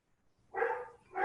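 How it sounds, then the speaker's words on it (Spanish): A dog barks in the background through an open microphone on a Spanish-language online call, two loud bursts of barking separated by a short pause, with no talk over them. "Se oye el ladrar al perro"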